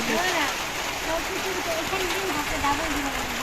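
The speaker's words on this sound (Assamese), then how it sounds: "ফাটা টিঙৰ পৰা পানী ওলাইছে" Steady rain patters and drips onto a cracked tin roof and leaks through, a dense continuous hiss, with a voice speaking over it.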